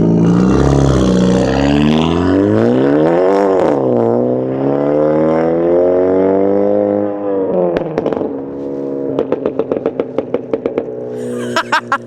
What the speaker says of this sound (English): I'm gonna be showing you guys what it sounds like under load